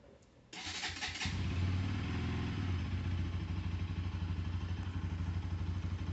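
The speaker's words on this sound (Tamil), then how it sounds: "கோல்ட் ஸ்டார்ட் பண்ணலாம்." A Bajaj Pulsar 200NS motorcycle cold starts on a rainy day, with a brief starter whir and then a loud, steady, close idle thrum that continues to the end.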